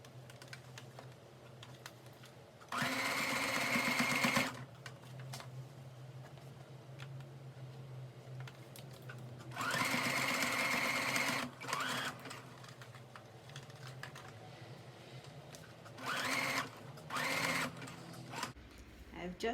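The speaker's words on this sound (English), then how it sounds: "so we can begin sewing on the machine." A sewing machine runs in three loud bursts of a few seconds each while stitching a wig, with the last burst split into two short runs, over a steady background hum and no talk.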